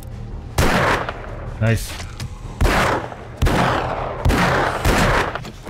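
Magnum revolver shots in the video game 7 Days to Die ring out as six loud, booming reports spaced about a second apart, each with a decaying tail, and someone speaks briefly between shots.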